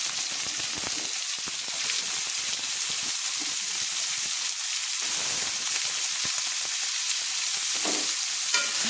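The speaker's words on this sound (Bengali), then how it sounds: "আলুগুলো দেওয়ার ফলে একটু আলুগুলো হাফ তেলের মধ্যে ভাজা হয়ে যাবে" Cut potatoes frying in hot oil in a pan for a prawn and Malabar spinach dish, a dense continuous crackling sizzle like heavy rain, loud and close with a few sharper pops.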